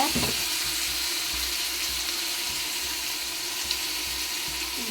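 Ginger and garlic fry in a pan for mushroom biryani as tomato paste goes in, giving a steady, close, continuous sizzle with faint low bumps from stirring.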